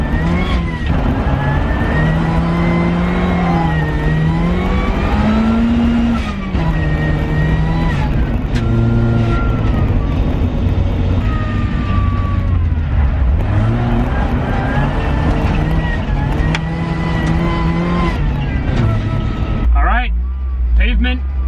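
A supercharged off-road Mazda Miata engine roars hard as it accelerates toward 60 mph, its pitch climbing and dropping through several gear changes before cutting off near the end, with voices talking over the loud run.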